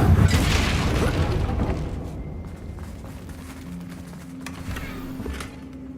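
Confringo explosion spell blast in a video game, a loud booming burst at the start that rumbles and decays over several seconds, followed by quieter mechanical tones.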